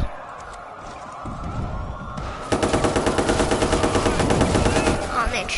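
Rapid bursts of video game gunfire in Watch Dogs 2, first a few scattered shots, then a dense stream of automatic fire in a close, loud, even rhythm that lasts several seconds.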